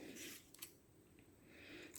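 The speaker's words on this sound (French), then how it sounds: "on prend une paire de ciseaux et on y va." A pair of scissors snips through paper while making a slimline card, several quiet, close crisp cuts spaced across a short stretch.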